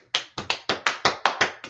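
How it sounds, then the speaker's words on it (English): Several people clap together in a loose, uneven rhythm, about ten sharp near claps over under two seconds, with no talking. "Let's clap it up for them,"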